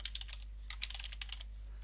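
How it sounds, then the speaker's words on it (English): Rapid light clicking of keys on a computer keyboard, typed in a quick uneven run, close and quiet with nothing else heard. "I'm going to type in a few different alternative titles for this article"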